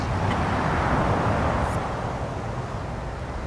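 Cars in the Autobahn Polizei Simulator game making a steady, loud broadband roar of engine and road noise that fades slightly over a few seconds, with no talk.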